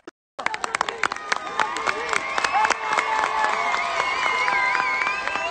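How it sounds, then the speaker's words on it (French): A crowd gathered for a memorial balloon release breaks into applause after a brief silence, scattered claps building into steady clapping with shouts, cheers and voices mixed in. "Ils sont là, les ballons, on applaudit s'il vous plaît."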